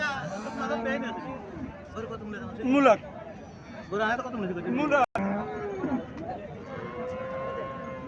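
A red native dairy cow lows at a cattle market, with an Indian breed cow and a red heifer calf nearby; a few drawn-out moos rise over steady crowd chatter and someone talking.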